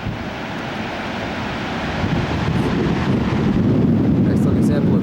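Thundering roar of one of Europe's most powerful waterfalls, a dense, steady rush that swells louder over several seconds with wind noise mixed in and no speech.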